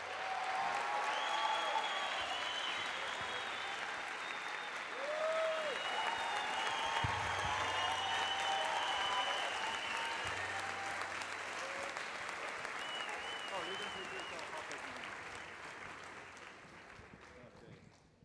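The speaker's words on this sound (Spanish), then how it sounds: "Les pido un aplauso muy fuerte de bienvenida para Irvine Welsh y Jonathan Levy" A crowd at the Bogotá Book Fair 2018 welcomes Irvine Welsh and Jonathan Levy with sustained, steady applause over about eighteen seconds, with some voices in the background.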